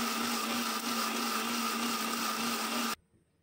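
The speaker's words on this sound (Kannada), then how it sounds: "ಒಂದು ಮಿಕ್ಸಿ ಜಾರಿಗೆ ಹಾಕ್ತಾಯಿದ್ದೀನಿ. ಇದನ್ನೆಲ್ಲ ಹಾಕ್ಕೊಂಡು ಈಗ ಚೆನ್ನಾಗಿ ಪೇಸ್ಟ್ ಮಾಡ್ಕೊತೀನಿ" A mixer grinder whirs at high speed, blending fried masala and fresh coriander leaves into a paste for chicken sambar. The loud, steady motor drone runs close for about three seconds, then cuts off abruptly.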